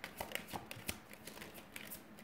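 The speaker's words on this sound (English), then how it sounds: "Oof, there's a lot of cards falling out right now." Tarot cards slapping and fluttering as several slip from a deck mid-shuffle, a scattered run of soft papery flicks and taps, close and fairly quiet, alone.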